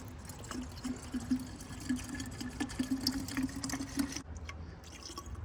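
Coolant glugs and trickles as it is poured into a car cooling system after a thermostat install on an E36, a steady bubbling liquid sound with a faint tonal hum that stops near the end.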